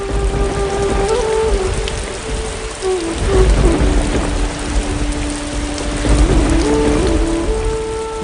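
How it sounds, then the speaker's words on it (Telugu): Heavy storm rain pours steadily and loudly at midnight in a narrated devotional story, with rumbling thunder swelling at moments and a sustained musical tone underneath. "అమ్మో ఎప్పుడూ లేనట్టు ఇంత భయంకరంగా వర్షం కురుస్తుంది ఏదైనా పెద్ద గాలివాన అయి ఉంటుంది"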